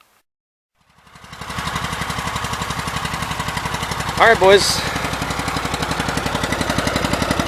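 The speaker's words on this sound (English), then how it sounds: "I forgot the tiller was running out here" A garden tiller engine on a Cub Cadet runs steadily outdoors with a loud, rapid, chugging putter after starting up, while someone speaks briefly over it.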